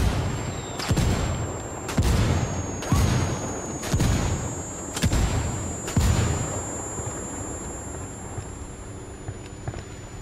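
Mortar rounds firing and landing in the tactical shooter Ghost Recon Wildlands, a series of about six heavy booming impacts spaced roughly a second apart, loud and close, with a steady high game tone running underneath.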